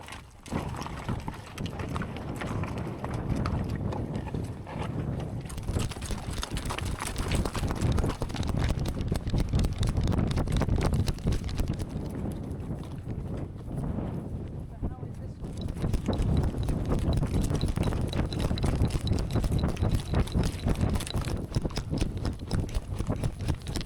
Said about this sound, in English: The hand horses, tolting freely beside them, kept perfect stride